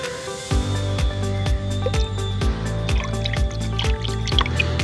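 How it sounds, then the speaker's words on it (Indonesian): Liquid Kalimax Stop fertilizer is shaken and mixed with water in a 16-litre sprayer tank, giving a rhythmic series of sloshing, dripping pulses about twice a second, close and fairly loud with no talking. "Terus kita campur Kalimax Stop ya, kita kocok terlebih dahulu seperti ini ya."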